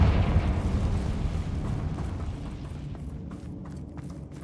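A loud, booming Confringo blasting spell explosion in Hogwarts Legacy, a heavy rumbling blast that starts at full strength and slowly fades out over several seconds.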